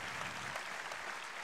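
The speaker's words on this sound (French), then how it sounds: "Je vais vous les laisser applaudir encore" Audience applause in a plenary hall at a business conference, a dense steady wash of clapping that holds at an even level throughout.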